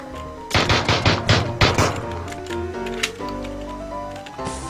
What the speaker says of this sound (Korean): 총소리가